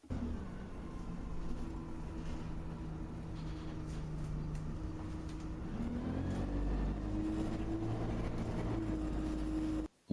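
A bus engine running in gear with the clutch unlocked, a steady low drone whose pitch wavers and climbs as the throttle is worked, heard from inside, moderately loud and without talk.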